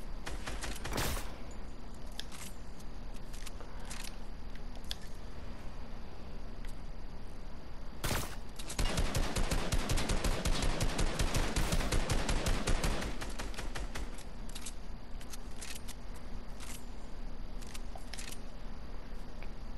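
Sniper rifle gunfire in a video game: sharp shots, with a dense burst of rapid fire near the middle, loud and close, without talk.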